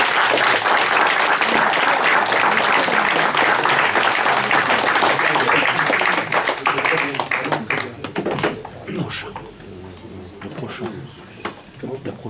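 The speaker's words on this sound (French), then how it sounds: "Et donc je vous demande de l'applaudir." Loud audience applause at a political magazine gathering on fiscal, social and institutional crisis, dense clapping sustained for about six seconds before thinning into scattered claps and murmuring voices.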